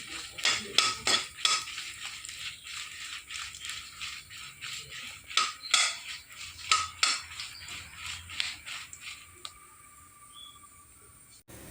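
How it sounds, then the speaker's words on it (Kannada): Ten dried red chillies frying in ghee in a pan for a crab ghee roast, with repeated clattering scrapes of a metal spoon stirring against the pan, close and fairly loud, over a soft background sizzle, without talk. "ತುಪ್ಪದಲ್ಲಿ ಮೆಣಸು ಹುರಿಯುತ್ತಿದ್ದೇನೆ."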